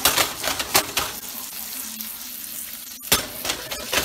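Salmon sizzles and crackles steadily in a hot pan, a continuous close frying hiss with a few louder stirring scrapes and a brief pause near the end.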